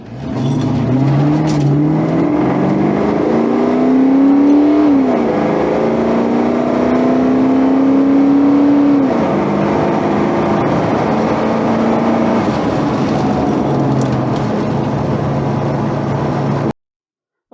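A Fox-body Ford Mustang 5.0 with an AOD automatic accelerates hard through a 0-60 run, its V8 note rising steadily, dipping at a shift and climbing again, loud and close from start to finish with no talking.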